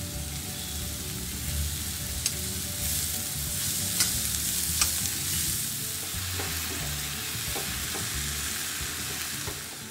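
Chopped manathakkali greens and onions sautéing in a pan, a steady dense sizzle with occasional scrapes and taps of a stirring utensil throughout, fairly close, with no talking.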